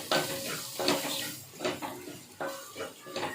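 Spices including garam masala and turmeric sautéed in a pan for a wet cashew vegetable dish, with repeated stirring scrapes and soft frying sizzle in bursts, close and moderately loud, no talk.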